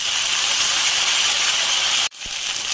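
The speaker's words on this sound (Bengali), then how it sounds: "এখন এখানে অ্যাড করতে হবে কাঁচা লঙ্কা আর ধনিয়া পাতার পেস্ট।" Green chili and coriander leaf paste goes into hot oil where cumin paste has been frying, making a loud, continuous, hissing sizzle that briefly drops out near the end and then resumes.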